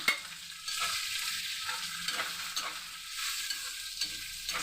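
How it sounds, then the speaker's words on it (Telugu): Curry leaves and turmeric frying in hot oil for tamarind pulihora: a quiet, steady hiss and crackle of sizzling oil, broken by a few brief stirring scrapes, with no voices. "ఇదిగో కరివేపాకు కూడా వేసేస్తున్నాను."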